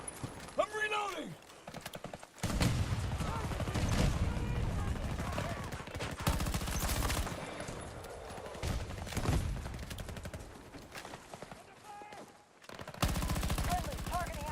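Dense automatic gunfire in Battlefield 2042 comes in rapid bursts with brief pauses between them, loud and close, mixed with game voice callouts shouting over the firing.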